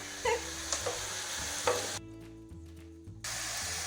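Garlic and tomatoes sauté over medium heat in a pan with butter, a steady soft sizzle broken by a few scraping stirs and clinks, with one brief quieter stretch midway.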